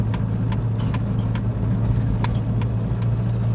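A lowered purple van driving at about 30 mph on a bumpy road: a loud, steady engine drone heard from inside the cab, broken by sharp rattles and knocks as the van hits the bumps, with no speech.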